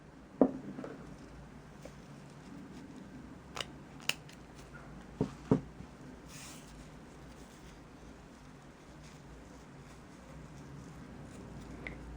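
Sharp scissors snip the ends of a crochet ribbon, several close, crisp cuts spaced irregularly against a quiet background.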